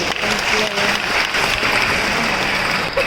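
Audience clapping fills a stage event hall with steady, dense applause throughout, loud and sustained, with a faint voice buried underneath.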